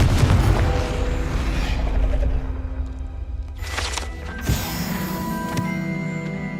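A Confringo spell explosion in Hogwarts Legacy: a loud booming blast rumbles, then fades under a sharper burst and lingering crackling game effects.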